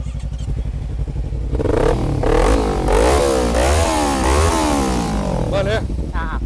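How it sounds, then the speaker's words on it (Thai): A Kawasaki Ninja 300 KRT special-edition motorcycle engine revs repeatedly, sharp rising and falling bursts of throttle over a throbbing idle, close and loud, with people talking in the background. "ให้ฟังเสียงคันนี้ด้วยเลย นิจา300 KRT ตัวพิเศษของเขาเหมือนกัน"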